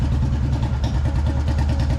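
An old cast-iron-engine Royal Enfield CI Bullet motorcycle runs at low speed nearby, its steady, loud, pulsing thump continuing without a break and with no voices.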